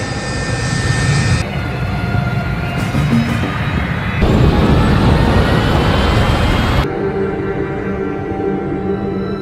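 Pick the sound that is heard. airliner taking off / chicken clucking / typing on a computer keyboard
airliner taking off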